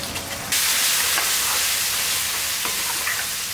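Two-tomato paste hits a hot pan for a small-onion tamarind curry and erupts into a loud, steady broadband sizzle after a quieter start, with faint stirring clicks, no talking.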